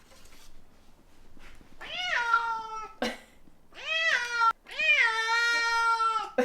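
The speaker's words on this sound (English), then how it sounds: "Do you want to see a very happy cat?" A contented cat meows repeatedly up close, a few drawn-out, rising-and-falling calls separated by short pauses and faint rustling, with no talking over it.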